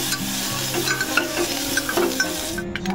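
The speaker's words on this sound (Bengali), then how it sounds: "একেবারে তেলের মধ্যে একটুখানি জিরে ফোড়ন দিয়ে দিলাম" A pinch of cumin seeds dropped into hot oil, sizzling and crackling loudly up close in a dense continuous hiss with small pops and occasional stirring clinks, no speech.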